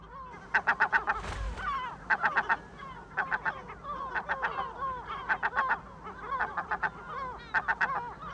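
Herring gulls call at a breeding colony, with bursts of loud, rapid honking cries in quick runs, repeating every second or so over a busy background of softer calls.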